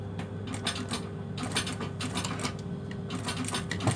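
Sewing machine stitching down a folded plastic-tipped edge while altering a shirt joined to trousers, a steady mechanical whirring and rapid clatter running continuously and close with no talk.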